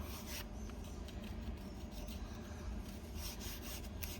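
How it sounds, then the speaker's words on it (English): Fingernails scrape cured eco resin off a mold in a steady, close, quiet rasping rub that keeps up for several seconds without pause, and no one talks. "So we're just going to just scrape it off with my nails."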